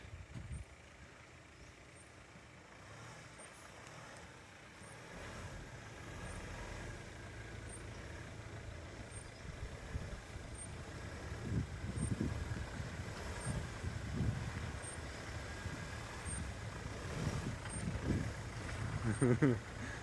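Subaru Forester XT tackling an off-road trail climb, engine droning low in the distance and building louder with revving surges toward the end, while people talk nearby.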